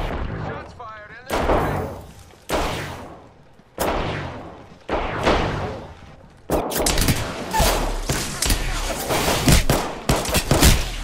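Gunfire in a first-person shooter video game comes in repeated sharp bursts with reverberant tails, growing denser toward the end, with players talking over it.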